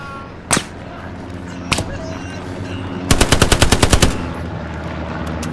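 Machine gun fire in the World War II shooter game Hell Let Loose: two single sharp shots, then a rapid close burst of about ten rounds over a steady low battle background.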